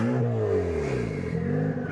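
Toyota Celica GT-S turbo engine revving loudly up close, the pitch climbing and falling across a couple of rising sweeps with a rough mechanical edge.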